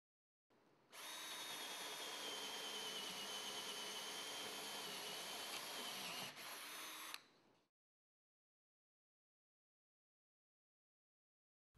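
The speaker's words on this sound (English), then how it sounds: "Now measure and drill the 1-inch hole completely through the left side rail." A power drill bores a 1-inch hole through a wooden bed side rail, one steady high whine lasting about six seconds, close and loud, then cutting off into silence.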